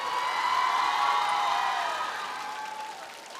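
Studio audience applause and cheering welcome two performers to the stage at a televised music show, a steady wash of clapping that swells early and then gradually fades.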